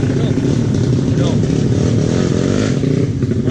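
Modified motorcycles ride past on a busy road in Cherating, a loud continuous engine drone and revving close by, with a voice talking over it.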